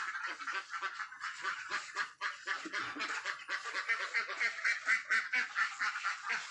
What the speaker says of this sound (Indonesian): Udah bebas lah bebeknya melakukan aktivitas di sini.